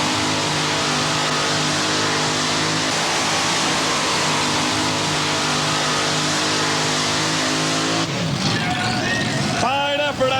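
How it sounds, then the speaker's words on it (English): Modified pulling tractors at a 1989 NTPA tractor pull at the Ohio State Fair, a loud continuous engine roar with a deep harmonic drone that drops off near the end, with an announcer's voice and crowd noise mixed in. "Here comes another Banner tractor."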